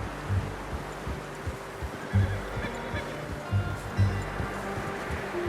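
A horse in the video game Red Dead Redemption 2 neighs and snorts in short bursts, with soft hoof clip-clops repeating underneath at a moderate, fairly quiet level.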